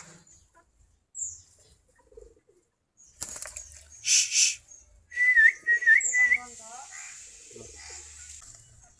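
Local deshi Giribaz pigeons, a flock of about 40 to 45 pairs, give faint scattered coos and whistly calls between stretches of quiet, with a person talking nearby.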